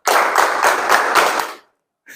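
A group of students claps together in a counted classroom clapping exercise, a dense, steady burst of hands for about a second and a half that stops abruptly, followed by silence and then a faint new sound.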